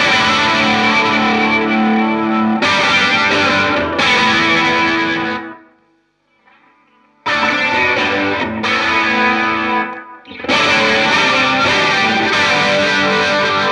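Electric guitar played through TheGigRig G3 pedal switcher with its effects loops in reversed order gives a loud, dense distorted tone with chorus-like shimmer, strummed in sustained bursts, with a short silent gap midway and no talking.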